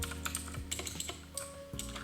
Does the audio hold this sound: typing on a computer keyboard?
yes